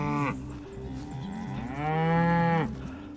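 Beef cattle in a farm pasture moo twice, a short low call followed by a longer, drawn-out bellow rising and falling, close and clear with faint outdoor ambience.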